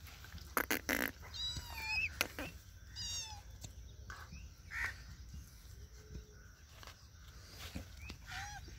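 A pet cat meows a few faint times amid outdoor ambience, alongside crow-like caws and other bird calls over low background noise.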